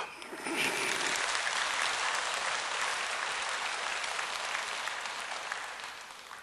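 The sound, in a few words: audience applause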